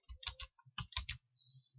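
Computer keyboard keys pressed together to trigger the Ctrl+Alt+A screenshot shortcut in PotPlayer, heard as a quick run of sharp, close clicks and taps in two bursts, followed by a faint low hum.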